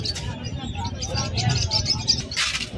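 Pigeons at a Malabon pet market coo and flutter in soft, low bursts, set among chirps and busy market murmur, with people talking nearby.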